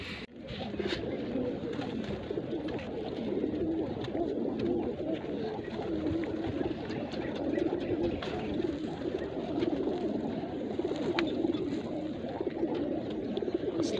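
Pigeons coo continuously in low, throaty murmurs, several birds overlapping close by with faint background chatter.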